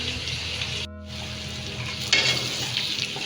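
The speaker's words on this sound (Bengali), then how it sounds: "আমরা একটু নেড়ে নিচ্ছি।" Ground coriander and cumin fry in a pan for goat head curry, a close crackling sizzle with stirring scrapes, briefly dropping out before returning louder as the mixture is stirred.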